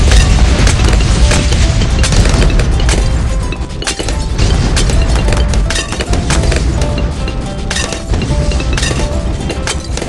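Dense, loud game effects from Bloons TD6 as fireball attacks burn waves of balloons: continuous crackling bursts, booms and pops layered over one another for the whole stretch, with no gaps and no talking.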